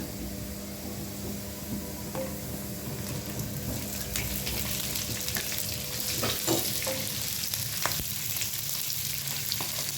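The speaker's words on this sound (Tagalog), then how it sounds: "kapag nag-golden brown na, ilagay na natin yung ating onion" Garlic and onion stir-fry in a hot pan with a steady soft sizzle, broken by occasional scraping and stirring clinks from a utensil, heard fairly faint and close without any talk.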